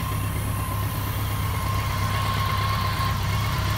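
A BMW K100 RS motorcycle engine idles steadily, a close, even mechanical hum with a low throbbing pulse and a faint whine on top, unbroken throughout with no voices.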